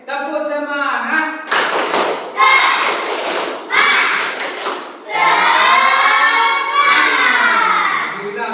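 A class of children chant and clap together in a rhythmic 'tepuk semangat' pattern, loud and close, with bursts of claps between phrases of group chanting.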